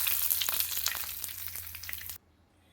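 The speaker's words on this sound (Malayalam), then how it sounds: "കടുക് പൊട്ടി ഇനി പച്ചമുളകും കറിവേപ്പില ഇടാം" Green chilies and curry leaves crackle and sizzle loudly in hot oil after mustard seeds have popped, close by, then the sound cuts off abruptly near the end.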